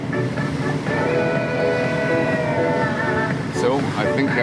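Small sea waves with scattered whitecaps wash steadily around a boat near Texada Island, a continuous close rushing surf mixed with a droning hum and what sounds like a voice underneath.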